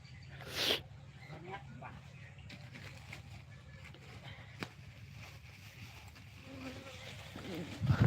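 A honeybee chasing someone at an organic honey farm buzzes faintly around the listener, with one sharp, close pass early on and a low, steady background hum after it.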